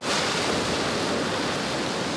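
Ocean surf at a surfing spot where competitive surfers pick waves, a steady, loud wash of breaking waves with no pauses, heard close and alone with no voices.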